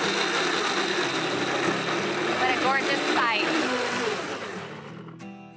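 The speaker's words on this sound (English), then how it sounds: "let the blender go" A blender blending strawberries whirs steadily at close range, a continuous motor drone with a brief spoken remark over it before the sound winds down.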